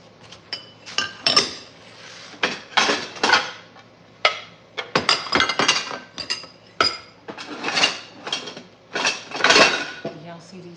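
Dishes and cutlery clink and clatter in a van converted into a tiny home, bright ringing knocks coming in irregular bursts of several hits, close and moderately loud, with brief pauses between clusters.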